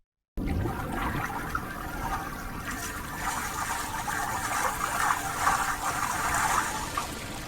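Water dripping and trickling from a carried bubble of water in a fantasy film scene about waterbending, a steady wet splashing and gushing that continues without pause under a broad noisy ambience.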